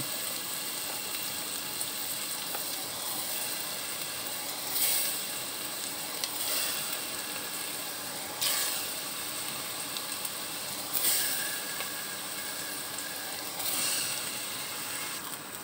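Sliced bananas are dropped one by one into a pot of chicken pochero and sizzle steadily. Hot fat spits and hisses throughout, with several louder surges where each piece goes in.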